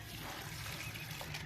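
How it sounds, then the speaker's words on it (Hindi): Water poured from a container into a house plant's pot, a soft continuous trickle heard faintly and close, with no talking over it. "इसमें डालो पानी, हाँ सारा डाल दो।"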